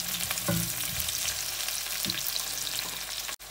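Onions fry in a pan for chicken gravy, giving a steady close sizzle with a few scraping stirs of a utensil and no talk.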